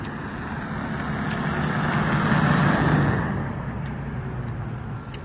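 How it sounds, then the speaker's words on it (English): Car engines idling and rolling past nearby on a city street at night, a broad traffic rumble that swells to a peak midway and then eases, with no voices. "I hear engine sounds to the left of me that seem really synced"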